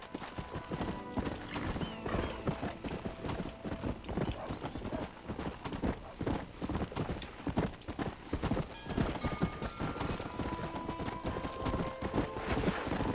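Horse hooves galloping in the Red Dead Redemption video game, a rapid, steady clip-clop running throughout with occasional whinnies and faint wind.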